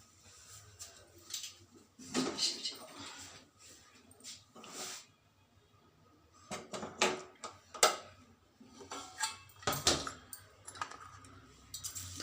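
Spices are tempered in a hot pan for a bitter gourd seed thambuli, giving irregular bursts of sharp crackling and popping with quiet gaps between. The sound is close and moderately loud.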